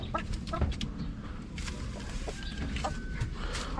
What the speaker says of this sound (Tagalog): Dito yung mga nanditong manok, mga matatanda na eh.